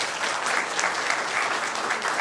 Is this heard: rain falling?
no